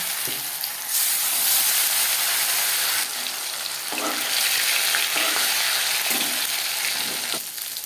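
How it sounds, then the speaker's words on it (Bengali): Pieces of katla fish fry in hot refined oil in a wok over a medium flame, giving a loud, steady broadband sizzle with brief crackling bursts that runs throughout with no talking. "তেল আমি গরম করে নিয়েছি ভাজবো মিডিয়াম"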